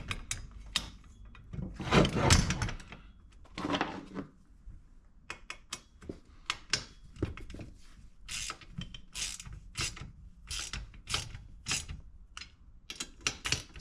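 A new Pittsburgh 1/4-inch drive ratchet turns a 10mm socket while steel ramps are being modified, giving rapid runs of sharp, close clicking in steady bursts with a few louder handling rustles between.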